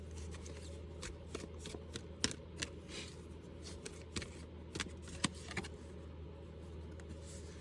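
Tarot cards are shuffled by hand and laid out, giving soft riffling bursts and sharper slaps in an irregular run, close and quiet with no talking.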